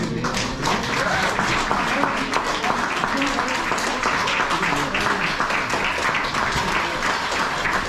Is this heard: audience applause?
yes